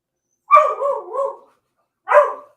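A dog named Marley barks indoors, a short double bark followed by a single bark after a pause, fairly close and loud with nothing else around it.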